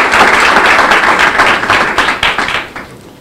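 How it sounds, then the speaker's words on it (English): An audience at a Ministry of Education launch event in the Virgin Islands bursts into loud, dense applause that carries on for a few seconds before tapering off. "I want you to give the Premier of the Virgin Islands a round of applause."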